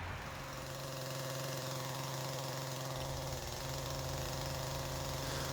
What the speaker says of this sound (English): I'm going to go get my chainsaw, get it fired up, and we'll make a cut